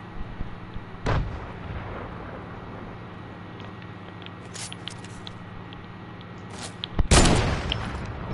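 Gunfire in the Fortnite video game: a loud shot burst near the start, faint scattered reports in the middle, then a heavier volley near the end over a steady low game hum.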